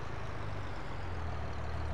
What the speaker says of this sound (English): just pulling it with a normal tractor ain't too bad